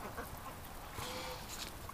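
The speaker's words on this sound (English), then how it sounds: "Oh, the geese are walking up the creek." Geese and ducks on a winter creek give faint, distant quacks and honks over a steady hiss of outdoor background noise.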